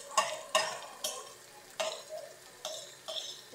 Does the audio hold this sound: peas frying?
yes